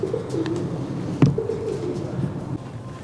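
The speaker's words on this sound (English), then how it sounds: "What's up, pigeons?" Pigeons coo softly in an abandoned Heathrow airport terminal, several low throaty coos in a loose rhythm against quiet echoing background noise, with one sharp knock partway through.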